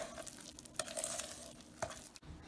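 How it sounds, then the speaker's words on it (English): Spoon stirring thick chocolate muffin batter in a bowl, soft scraping strokes with a few sharper taps against the side, quiet and close with no talking. "you keep stirring it until it becomes like a batter, like thick batter"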